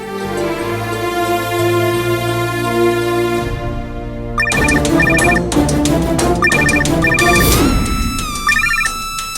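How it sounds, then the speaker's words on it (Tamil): Phone ringing on an outgoing call, a sustained tone that gives way to a loud, repeated electronic ringtone melody with no talk over it. "ரிங்கு போய்கிட்டு இருக்குது"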